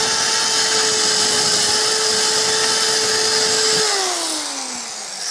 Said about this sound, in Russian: Сверлить стекло нужно с двух сторон или зеркало.